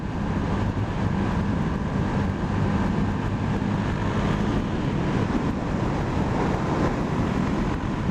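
KTM 390 Duke motorcycle from 2017, still in break-in, accelerating gently as the throttle opens, a steady broadband engine and wind roar at constant loudness throughout, with no voices.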